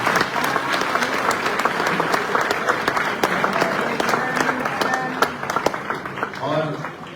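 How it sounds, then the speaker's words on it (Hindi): A large audience at an education charity event breaks into loud, sustained applause, dense clapping that carries throughout before tapering slightly as a voice comes in near the end. "कोई जोरदार ताली है।"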